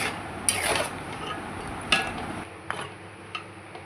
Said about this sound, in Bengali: দেওয়ার পর ভালো করে নাড়াচাড়া করে নিলাম।